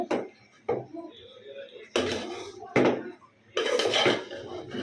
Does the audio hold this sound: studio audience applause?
no